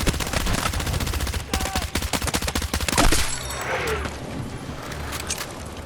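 Rapid automatic gunfire in the video game Battlefield 6, a dense burst of close, loud shots, then a heavier blast and scattered distant shots and rumble trailing off.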